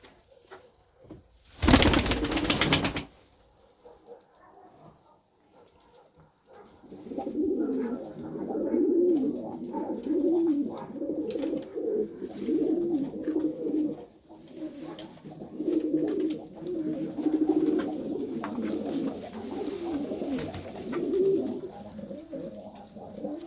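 Titrek boyun tumbler pigeons coo softly and repeatedly inside a coop in the evening, a steady low rolling murmur close by, preceded by a brief loud noise burst near the start.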